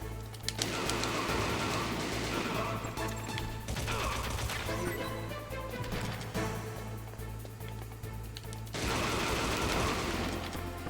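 Rapid gunfire bursts and crashing impacts from the Metal Gear video game, loud and dense throughout, with near-continuous volleys and a steady low drone underneath.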